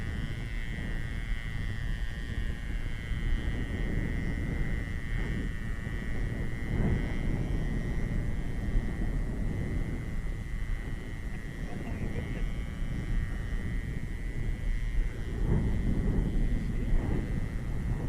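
A free-flight model airplane, a 49-inch Diamond Demon, runs on a Bantam 19 spark-ignition engine, giving a continuous buzzing drone with a steady whine that persists throughout, while people talk in the background.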